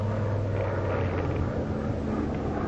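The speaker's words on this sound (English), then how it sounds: "Ain't nothing but a plane." Propeller airplane drones overhead above a valley in a 1945 western, a steady loud rumbling hum that holds level throughout with no talk.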